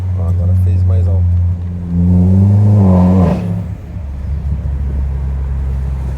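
A Citroën DS5 THP fitted with a downpipe and straight exhaust revs loudly up close, the engine climbing to a harsh peak and dropping back to a rumbling idle.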